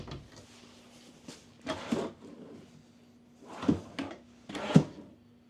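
Deep storage drawers in a 2026 Forest River Cherokee Timberwolf travel trailer kitchen slide open and shut several times, each a muffled rolling thud, with a steady low hum underneath and quiet gaps between.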